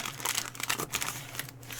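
A big cardboard parcel box being opened for an unboxing, with continuous close crinkling and crunching of packaging and no voice over it.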